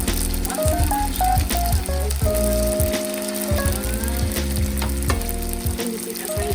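Wontons deep frying in plenty of hot oil, a loud, steady crackling sizzle with rapid popping bubbles, close by and continuous, no talking.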